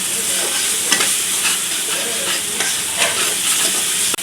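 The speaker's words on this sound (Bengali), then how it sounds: "এখন মশলাটাকে ভালোভাবে কষায় নেব।" Shrimp masala fries in a pan while being stirred, a continuous close sizzle and hiss broken by repeated scraping strokes of the spoon, with no talking.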